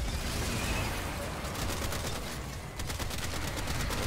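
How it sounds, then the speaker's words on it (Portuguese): Rapid charged weapon shots in the Warframe video game, a dense loud burst of gunfire that runs almost continuously with a brief dip midway. "Dá um tirinho carregado e atira."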